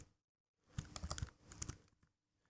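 Fingers tap on a computer keyboard in a quiet room, a short run of quick, light clicks in two small bursts with brief silence before and after.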